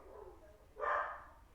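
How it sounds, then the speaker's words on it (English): A dog gives a single bark somewhere in the background, one short burst, fairly faint and with nobody talking over it. "the dog's barking."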